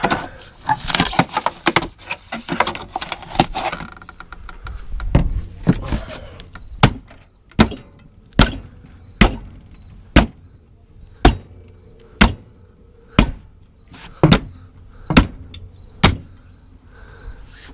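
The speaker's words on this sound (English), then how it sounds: "This axe is pretty dull, so there we go." A dull axe chops through a household appliance being scrapped, starting with a flurry of rough hits, then settling into about a dozen sharp, evenly spaced strikes ringing loud and close.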